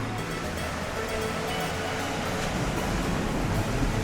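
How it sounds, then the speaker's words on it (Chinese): Sea waves wash along the rocky Cinque Terre coastline in Italy, a steady, unbroken roar of surf with no distinct breaks, fairly close and with no voices. "听着海声，然后看着辽阔的大海"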